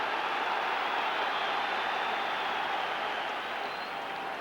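A big football crowd at Ibrox roars steadily behind Rangers during a European Cup tie against Red Star Belgrade. It is a continuous distant wash of voices with no single shouts standing out.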